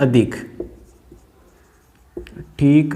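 Marker or chalk writing on a classroom board during a maths lesson on the median, brief scratchy strokes between stretches of a teacher's voice.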